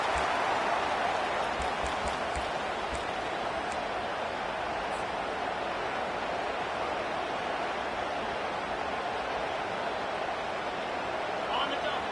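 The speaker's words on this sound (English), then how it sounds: "Decibels rising as the crowd gets behind this defense on third down." Stadium crowd in a Madden football video game roaring steadily as a dense, continuous wash of cheering noise, loud and sustained throughout with no clear breaks.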